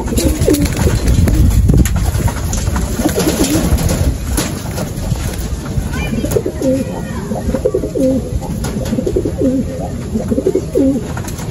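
Racing pigeons coo in repeated soft, low phrases over a steady bed of flock noise and bustle at a club training session in Mabitac, Laguna, continuing throughout at moderate loudness.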